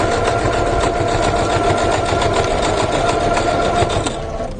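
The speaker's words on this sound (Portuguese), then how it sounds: "E você vê que qualquer máquina costura esse estruturado." A sewing machine stitches a structured fabric bag, its needle running in a fast, steady mechanical chatter that stays loud and close for several seconds before easing slightly near the end, with no voices.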